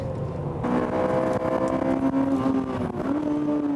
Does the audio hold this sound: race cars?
yes